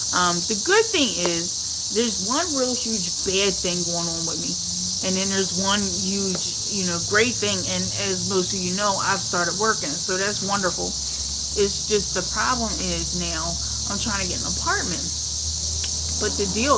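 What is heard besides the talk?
cicadas buzzing in the background outdoors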